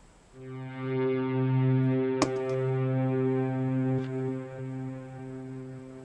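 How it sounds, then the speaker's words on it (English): Soloed echo from a reverb sound in an album mix gives a sustained, humming harmonic drone with a sharp click partway through, slowly swelling and then fading as the repeats blur together. "So I'm just going to solo this, just the echo of that."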